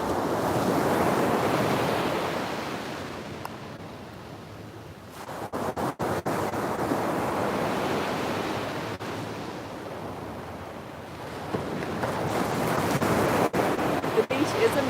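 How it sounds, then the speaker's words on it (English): Loud morning ocean waves roll and crash continuously, a dense roar of surf that swells and recedes with gusty wind noise on the microphone. "I love the sound of the loud waves this morning."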